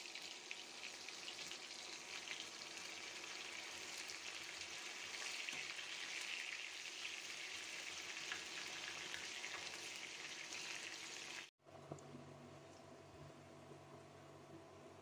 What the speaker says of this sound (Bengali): বাগার ভাজা হয়ে গিয়েছে